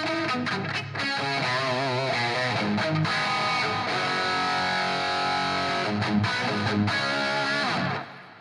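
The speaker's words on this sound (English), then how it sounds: "And that's the plate reverb." Distorted electric guitar through the IK Multimedia Tonex plate reverb plays sustained chords and notes drenched in lush reverb, loud and continuous, ending with a ringing tail.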